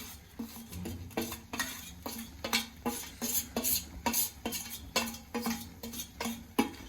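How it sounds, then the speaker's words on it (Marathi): Grated jaggery being stirred into a raw mango mixture in a pot, with repeated rhythmic scraping and clinking of a spoon against the metal, close and steady. "आणि याला चांगली मिक्स करून घ्यायचं आहे"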